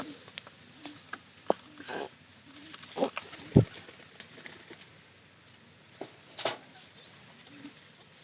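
Pigeon chicks in a loft give soft, scattered coos and rustles, with brief flaps and taps against a quiet background.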